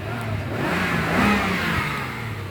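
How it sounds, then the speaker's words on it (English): A Jaguar car engine running on petrol is revved up and eased back down, a steady close mechanical roar that swells in the middle with no talking. "Give it a rev."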